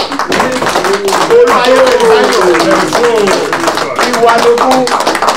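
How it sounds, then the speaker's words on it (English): A group at an annual general meeting claps in scattered bursts, mixed with loud voices and cheering throughout. "can we give Mr. Benson a round of applause, please?"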